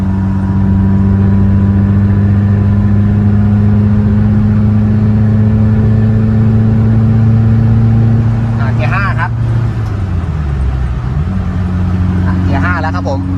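A worn-out Nissan Sunny B11 car driving in fourth gear, its engine droning at a steady mid-pitched hum close inside the cabin, dipping briefly as it eases off, with someone talking over it.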